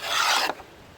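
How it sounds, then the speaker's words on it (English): A single close, harsh rasping stroke as a Japanese plough plane, a kikai shakuri kanna, cuts through wood and curls out shavings, ending abruptly after half a second. "it's just going up into the plough and coming out the top in these beautiful shavings"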